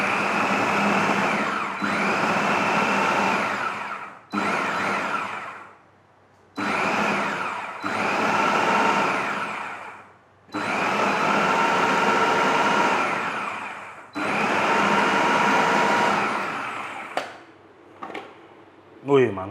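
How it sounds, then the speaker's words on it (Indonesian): An electric grinder chops green chili sambal ingredients coarsely, a loud steady whirring that runs in several bursts with short pauses between, stopping near the end. "Oke, kita giling ya. Gua nggak mau terlalu halus."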